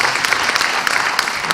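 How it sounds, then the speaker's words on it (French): An audience applauds at a public debate, dense steady clapping from many hands, loud and close, with no talk over it. "je pense qu'on peut l'applaudir"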